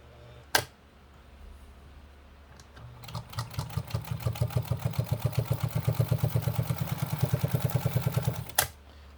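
A blue New Home sewing machine stitches through a single layer of 1.2 mm thick leather, with a rapid, even mechanical clatter of needle strokes for about five seconds, opened and closed by sharp clicks.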